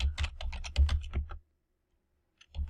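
Rapid clicking keystrokes on a computer keyboard in two bursts separated by a short silence, close and clear.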